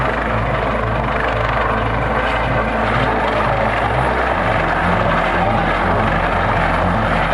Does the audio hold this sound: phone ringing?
no